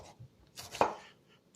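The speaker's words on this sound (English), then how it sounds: "But yep, so we're just chopping up" A knife chops tomatoes on a cutting board, with a single firm thud after a brief sliding cut, close up and alone without any voices.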